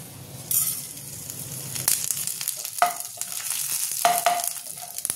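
Dried red chilli torn into pieces with fenugreek and fennel seeds dropped into hot oil, a bright crackling sizzle that bursts up, then spits and pops irregularly with occasional clinks of a utensil stirring the pan.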